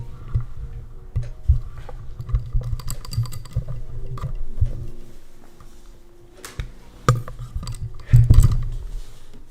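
A computer keyboard that is still not working properly is typed on in bursts of crisp, close clicks and key thuds. A louder flurry of keystrokes comes near the end, and no one speaks.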